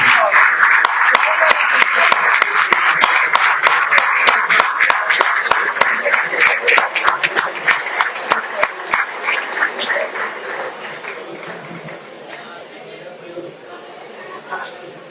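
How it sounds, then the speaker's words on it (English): Enthusiastic clapping from a large conference audience at an inauguration ceremony, loud and dense at first, then thinning out and fading to scattered claps. "give a big round of applause for them"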